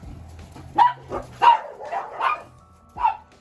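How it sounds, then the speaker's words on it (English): Dogs bark in a home kitchen during a bacon brisket cook, several sharp, fairly close barks spaced irregularly with quiet gaps between them, no talking over them. "Don't mind the dogs."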